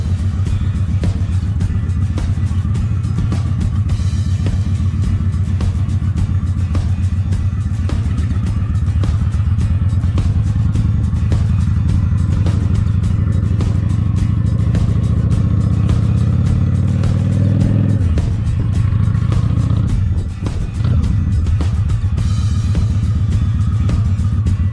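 A Honda 750 Ace Deluxe motorcycle engine runs steadily for the whole stretch, a loud, close, continuous low rumble that swells slightly toward the end before a brief dip and recovery, with no talking.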